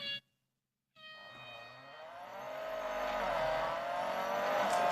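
A Mercedes A45 AMG racing car engine in the video game Real Racing 3 cuts out briefly, then revs up and climbs steadily in pitch, growing louder as it accelerates, with no voices.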